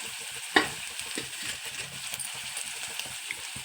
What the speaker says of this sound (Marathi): कांदा थोडा परतून घेऊ आपण आता टाकू हिरव्या मिरच्या त्याच्यात